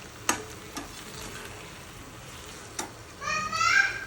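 Boiled rice noodles are gently mixed in a pan, giving a soft, low sizzle with a few faint scraping clicks, while children's voices chatter faintly toward the end.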